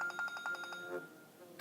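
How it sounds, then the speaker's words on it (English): A cell phone buzzes faintly nearby as a quick run of about seven short, evenly spaced tonal pulses, then dies away. "there's my cell phone buzzing"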